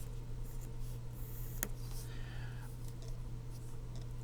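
A marker writes on a whiteboard in a chemistry lesson on isotopes, a faint squeak and scratch of strokes over a steady low electrical hum, quiet and close, with no talk over it.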